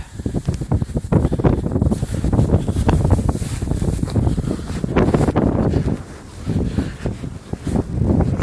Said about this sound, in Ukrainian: Дуже сильний вітер сьогодні дме.